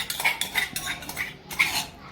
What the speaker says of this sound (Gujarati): આ રીતે ખીરાને બરોબર હલાવી લેવાનું છે